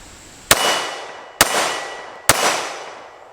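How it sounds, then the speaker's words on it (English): Three loud, sharp gunshots from a Springfield Emissary 1911 pistol chambered in .45 at a shooting range, evenly spaced about a second apart, each with a ringing decay. "we got the Springfield Emissary chambered in 45. So we're gonna shoot this, let you see that recoil impulse"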